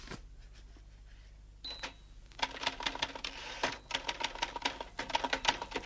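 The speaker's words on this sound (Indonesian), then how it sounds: "She's typing." Typing on a typewriter clatters close by in quick, irregular bursts of keystrokes, with a bell-like ding and a brief carriage sound partway through, and no voices over it.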